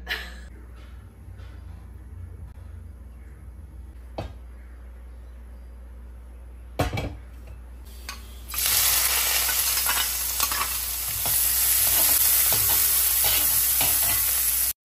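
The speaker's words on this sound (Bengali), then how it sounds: "স্টুতে পেঁয়াজটা কিন্তু খুবই হালকা করে ভাজতে হবে" Onion frying lightly in a pan as the start of a stew: a soft background with occasional utensil clicks gives way halfway to a loud, close, continuous sizzle with scattered stirring knocks.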